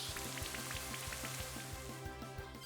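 Rain Dance move in Pokemon Brilliant Diamond, a steady synthetic patter of rain falling over a repeating rhythmic game music loop, quiet and continuous.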